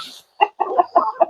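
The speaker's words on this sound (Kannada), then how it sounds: "ಇದರಲ್ಲಿ ಎಷ್ಟು ವರ್ಷದ ಕೋಳಿಗಳೆಲ್ಲ ಉಂಟು?" Country (native) chickens clucking at a backyard poultry farm, a quick series of short, loud, close clucks in a choppy rhythm.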